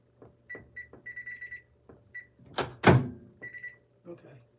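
A misbehaving microwave oven lets out a series of short electronic beeps, broken by a loud thunk of its door near the middle, heard close in a quiet home kitchen.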